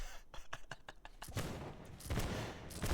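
A rapid burst of video game gunfire cracks in quick succession, then heavier blasts and sustained shooting roar close by, loud and dense.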